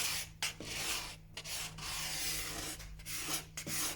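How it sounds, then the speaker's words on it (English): A hand scraper rasps across a wooden door, lifting excess glue during flattening, in rough repeated strokes at varying angles with short pauses between passes, close and moderately loud, no speech. "So I'm just going to scrape at different angles across there."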